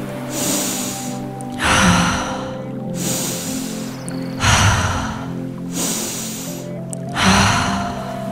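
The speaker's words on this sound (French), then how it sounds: "inspirer plus profondément et avec plus de force par le nez et d'expirer par la bouche" Forceful, deep breaths drawn in through the nose and pushed out through the mouth, repeating in a slow, steady cycle of about three breaths, close and loud over a faint, steady background drone.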